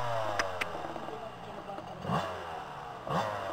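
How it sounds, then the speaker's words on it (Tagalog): A car engine revs in repeated rising and falling bursts, heard from a distance under crowd noise with occasional sharp clatters. "Oh, ginagalit na yung makina."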